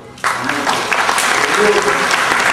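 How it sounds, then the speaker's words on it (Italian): Applause breaks out at an award ceremony, a burst of dense clapping starting abruptly after a brief quiet moment and holding steady with murmurs underneath. "Prego un forte applauso a"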